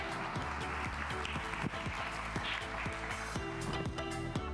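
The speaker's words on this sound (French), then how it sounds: "je vous demande d'applaudir comme il se doit Frédéric Michaud" An audience applauding a presenter, a moderate wash of clapping heard at a slight distance, mixed with sharp foot taps or knocks and some background noise.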